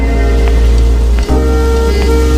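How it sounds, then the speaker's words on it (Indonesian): Heavy rain pours down at night in an Indian film, a loud, dense, steady hiss with a few faint thuds. "Namun di malam itu hujan turun dengan sangat deras"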